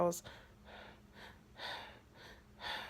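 A person imitates the short, labored breathing that followed hiatal hernia repair surgery in someone with asthma. About six quick, shallow breaths come in a steady rhythm, close and fairly soft.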